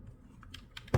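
Typing on a ROCCAT Vulcan II Mini Air compact keyboard: a short run of a few close, crisp key clicks ending in a louder, heavier keystroke, with no talking.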